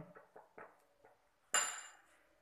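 A spoon clinks and scrapes in a bowl while a face pack mixture is stirred, a few light taps followed by one sharper ringing knock that fades out, quiet and close.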